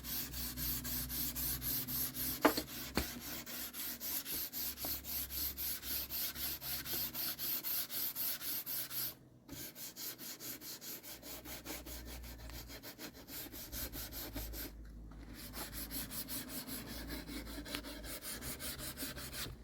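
Steel wool rubs wood with the grain in steady, scratchy strokes, repeated back and forth in a quiet, even rhythm with a couple of brief pauses.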